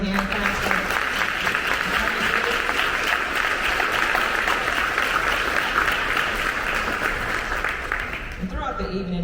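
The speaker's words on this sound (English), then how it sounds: "Let's give a hand clap." An audience at an NAACP evening event in Henry County claps together as sustained, dense applause from a sizable crowd, holding steady for several seconds before fading out at the end.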